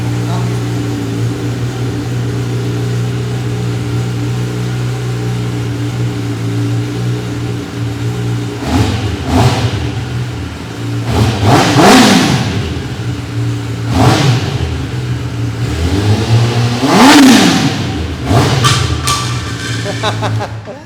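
A superbike engine with a titanium exhaust idles steadily, then revs sharply several times in quick bursts, loud and close, with brief speech in between.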